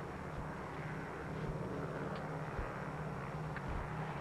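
A steady, low engine drone fills an airliner cabin in flight, a constant, muffled roar with no speech over it.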